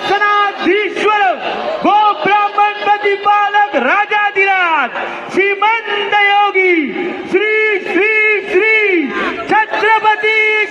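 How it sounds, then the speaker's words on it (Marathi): A large crowd of devotees at the Chintamani Ganpati arrival procession in Chinchpokli, Mumbai, chanting and shouting together in loud, rhythmic, repeated call-like swells that fill the space, with voices very close. "खूप भाविकांची गर्दी आहे"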